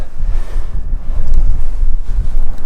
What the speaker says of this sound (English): We got a really good uphill wind just blasting up this canyon